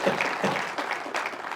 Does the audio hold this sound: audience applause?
yes